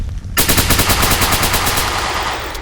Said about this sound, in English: That is a HK-416 gun sound